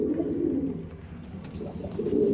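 Kalanka pigeons cooing in a home loft, a steady low murmur of several birds calling together close by, with soft rustling throughout.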